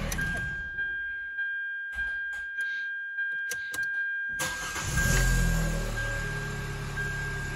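A 2015 Hyundai Elantra, just fitted with a new catalytic converter, cranks with several rhythmic starter pulses, then the engine catches and settles into a steady close idle with no talking.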